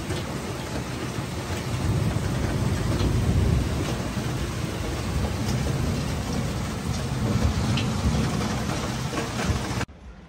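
Heavy rain pours steadily in Dushanbe, a dense, loud, continuous hiss and patter on surfaces that holds for several seconds before cutting off abruptly at the end.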